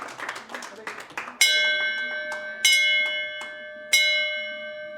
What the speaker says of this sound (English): Bruce, ring the bell